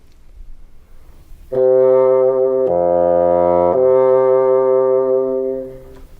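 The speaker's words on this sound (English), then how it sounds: "Like the oboe, the bassoon is a woodwind instrument and part of the double reed family." A bassoon plays a few sustained low notes in a clean solo demonstration, with a rich, reedy tone that holds steadily for about four seconds before fading.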